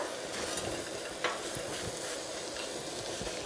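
Fruit with raisins, sugar and vanilla being stirred in a pan, soft scraping strokes and a gentle low sizzle, quiet and close with a few clicks of the utensil.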